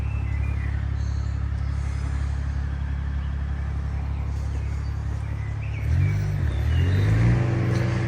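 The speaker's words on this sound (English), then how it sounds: "Probably Penny driving the tractor, isn't it?" A tractor engine drones steadily nearby along a countryside path, a low continuous rumble that swells and shifts pitch as it revs near the end, with faint birdsong in the background.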